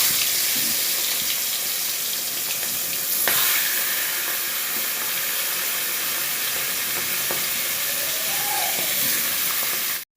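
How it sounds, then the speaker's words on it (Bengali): Fish frying in hot oil gives a steady, close hiss and crackle, with a brief louder spatter partway through before the sizzle cuts off abruptly at the end. "তেল গরম হয়ে গেছে, আর মাছটা ছাড়বো।"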